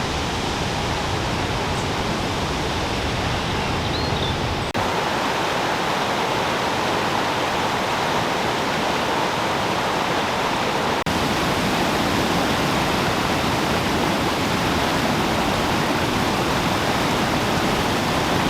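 River water flows in a continuous, loud, broad rushing roar where two distinct currents mix and run in the same direction, unbroken throughout and with no voices.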